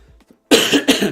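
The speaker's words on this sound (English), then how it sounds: "Sorry about all the coughing, folks." Two harsh, loud coughs close to the microphone follow a brief quiet moment with faint throat sounds.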